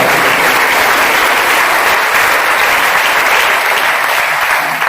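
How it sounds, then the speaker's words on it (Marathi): A crowd at a motivational business seminar claps loudly and continuously, a dense, even wall of applause filling the room for the whole stretch. "तर त्यांच्यासाठी जोरदार टाळ्या"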